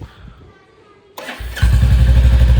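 Royal Enfield Bullet with a loud aftermarket silencer and bend pipe being started: a quiet lead-in, a starter crank, then the engine catches and settles into a loud, deep, pulsing thump close by.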